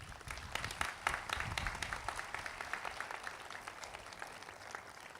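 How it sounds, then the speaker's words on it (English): A round of applause at a dedication ceremony for a new academic facility, a crowd clapping briskly at first and then tapering to a softer, thinning patter, heard from some distance. "Let's give him a round of applause."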